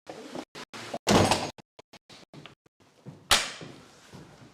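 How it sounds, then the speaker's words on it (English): Locked door at an old railway building being tried, a series of rattling knocks and thuds as the handle and door are pushed, close and moderately loud with brief gaps. "Door's locked."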